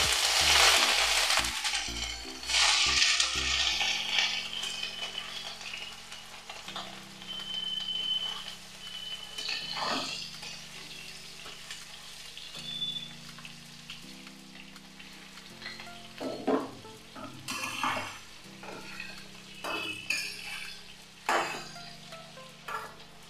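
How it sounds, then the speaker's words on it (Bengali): Cauliflower and potato pieces fry in a pan with bay leaf, giving a steady close sizzle with occasional stirring scrapes, while a low tonal background hum runs underneath throughout. "কপি আলুটা ভাজা হতে থাক"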